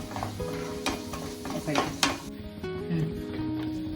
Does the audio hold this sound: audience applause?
no